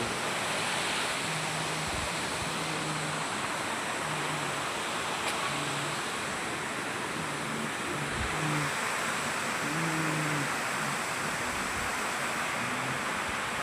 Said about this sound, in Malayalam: എൻ്റെ നാട്ടിൽ പറയും ഉണ്ടോ നല്ല വെള്ളച്ചാട്ടം